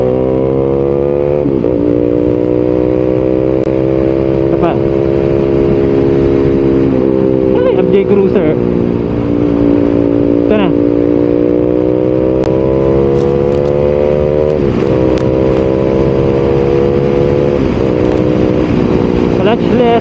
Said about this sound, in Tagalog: Clutchless shifting.